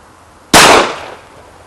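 A single sharp, loud Glock 19 pistol shot fired outdoors, with a sudden crack that rings and decays over about half a second before quiet returns.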